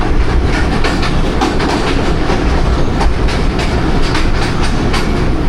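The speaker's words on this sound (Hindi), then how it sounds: "4:15 और बदामी बाग से पास हो रही है ट्रेन।" The Allama Iqbal Express rolls past Badami Bagh, a loud, continuous rumble of railcars with rhythmic clickety-clack of wheels over rail joints, no voices.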